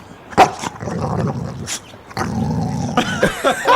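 A dog barks and growls in several loud, rough bursts, close and unaccompanied by speech.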